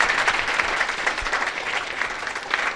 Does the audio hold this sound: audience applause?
yes